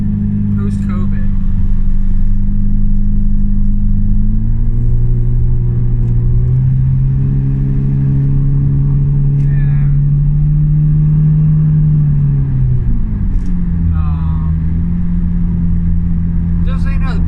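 Car engine rumbling steadily in heavy morning commute traffic, a low droning hum that shifts pitch as the car slows and moves, with a person talking over it throughout.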